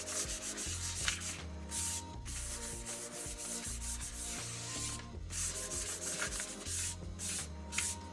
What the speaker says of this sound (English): I'm going to go ahead and sand this whole surface down with some 600 grit sandpaper